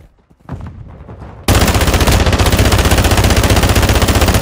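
A machine gun in the Call of Duty game opens up in a loud, continuous, rapid-fire burst after a few scattered quieter shots, hammering steadily without pause until the end.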